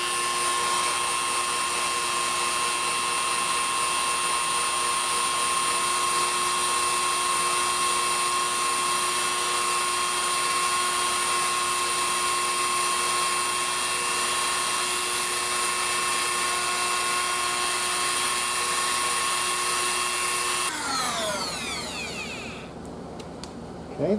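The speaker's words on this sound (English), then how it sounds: "I'm going to have to drill a hole through here for the anode wire." Diamond bit drilling a hole through the glass envelope of a handmade nixie tube, a steady high-pitched whine held for about twenty seconds before it breaks through and winds down.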